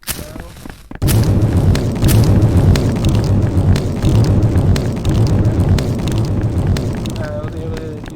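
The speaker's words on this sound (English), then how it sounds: "let me give you a quick little demonstration of the Fire Nova" Fire Nova area ability from the video game System Reboot, a sudden loud burst followed by a sustained roaring, crackling blaze of fiery noise that gradually thins out near the end.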